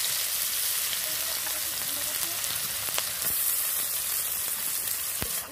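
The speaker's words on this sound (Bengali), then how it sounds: "মাছ ভাজা তেলে দিয়ে দিচ্ছি পেঁয়াজ কুচি।" Chopped onion fries in oil left from frying fish, a close, steady crackling sizzle with scattered sharp pops throughout and no talk.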